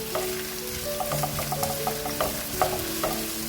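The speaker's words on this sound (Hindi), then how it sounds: "और अब हम इस प्याज को फ्राई करेंगे" Sliced onions sizzle in a hot pan, a crackling fry broken by a run of soft spoon or spatula knocks as they are stirred, close and fairly quiet.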